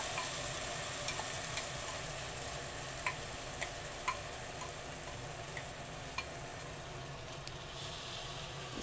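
Barley dalia with soaked grains and roasted vegetables being stirred and mixed in a pan, a steady low sizzle with scattered soft spoon ticks against the metal, faint and close, no voices.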